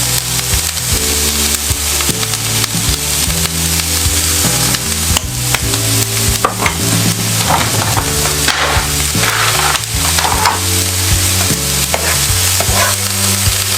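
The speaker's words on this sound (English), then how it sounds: "Give it a stir." Stir-fried cabbage with vegetable seasoning is stirred in a pan. A steady loud sizzle runs throughout, with repeated scraping and clacking as the spatula works the cabbage, and no talking.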